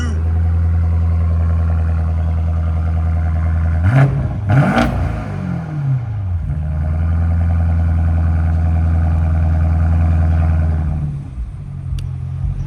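A 2021 BMW M850i with a 4.4-litre twin-turbo V8 and X-pipe straight pipes idles loudly and steadily, then is blipped into two sharp, raspy revs that fall back to a droning idle before it quietens near the end.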